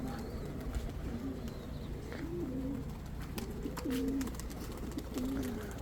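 Rare Sina pigeons cooing close by, with several low, rolling coos repeated at intervals over a steady background hum and scattered faint chirps.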